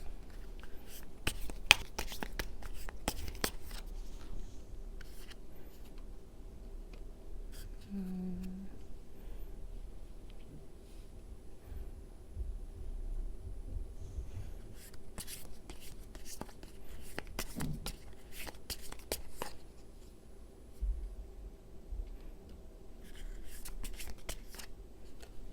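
Tarot cards are shuffled and drawn with soft, close riffling bursts and papery slides, separated by quiet pauses. Brief murmurs of speech occur between the card sounds.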